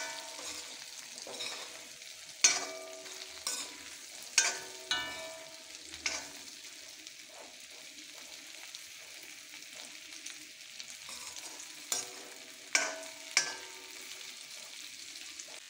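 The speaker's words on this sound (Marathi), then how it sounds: "आता ते परतून घेऊया." Okra is sautéed in a pan, with a soft continuous sizzle broken by several sharp clanks and scrapes of a spatula stirring against the metal, close and without talk.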